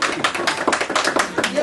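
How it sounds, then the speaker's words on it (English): An audience claps at a ribbon cutting for a sewing and knitting shop. Brisk, fairly loud handclaps form a rhythmic burst with voices mixed in. "Let's give them a good round of applause."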